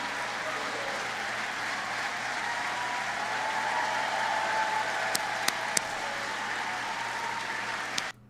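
Sustained applause from a large audience at a Biden speech before Congress, a dense steady roar of clapping lasting several seconds before cutting off.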